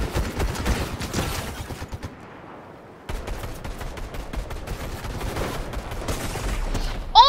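Continuous video game gunfire in rapid automatic bursts, loud and dense, dropping out briefly for about a second before resuming just as heavily, with no talking.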